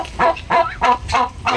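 Broad-breasted turkey gobbling close by in a quick run of four or five loud, rattling calls packed into under two seconds, with no voices over it.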